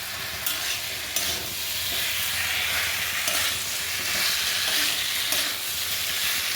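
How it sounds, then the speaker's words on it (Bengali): Shrimp, potato and fried cauliflower are stir-fried in a pan with a steady, loud sizzle and occasional stirring scrapes throughout. "চিংড়ি মাছ, আলু, ফুলকপি ভাজা, এগুলোকে আবারও বেশ কিছুক্ষণ কষে নেব।"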